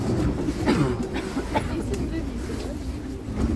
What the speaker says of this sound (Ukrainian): ми катаємося у трамваї